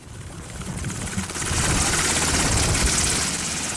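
Steady roar of an army helicopter in Arauca, Colombia, its broad rumble swelling louder after the first second and holding strong, with faint rotor chopping beneath.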